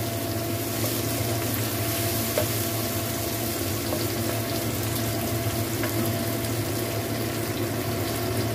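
Tomatoes hit a hot frying pan while sardines are being cooked, giving a steady, close sizzle of frying that runs evenly throughout with faint stirring sounds and no talking.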